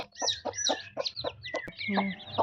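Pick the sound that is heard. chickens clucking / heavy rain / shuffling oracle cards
chickens clucking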